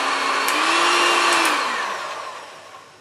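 Electric hand mixer with beater attachments whirs steadily while creaming cupcake mixture, a loud continuous motor drone with a slight pitch rise and fall that fades toward the end.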